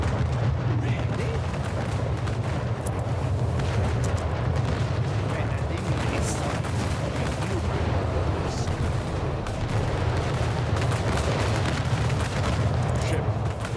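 Ship cannons and explosions rumble through an Anno 1800 naval battle, a dense continuous barrage of booms and blasts rolling on without pause at steady loudness.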